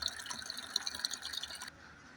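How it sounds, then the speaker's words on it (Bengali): Water runs and splashes into a container for a moment, a bright trickling stream close by that stops abruptly, leaving quiet room tone. "পানিটা ভরা হোক"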